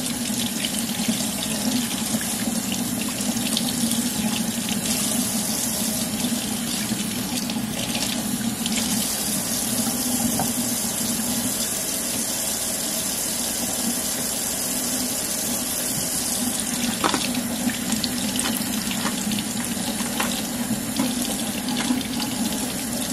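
Tap water runs steadily into a sink for about twenty seconds while salmon is rinsed under it, a close, continuous splashing hiss with slight shifts as the food moves in the stream.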